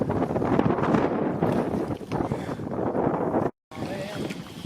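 Strong headwind buffeting while canoeing on Loch Shiel, a dense, continuous roar of wind against the microphone with faint water movement, cut by a brief dropout near the end.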